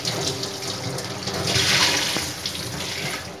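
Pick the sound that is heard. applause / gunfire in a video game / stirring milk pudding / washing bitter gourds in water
washing bitter gourds in water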